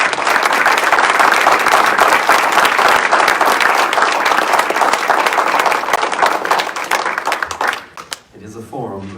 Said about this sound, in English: I'd like to actually just give both of them a round of applause.